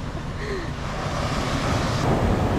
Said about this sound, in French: Il y a beaucoup de vagues.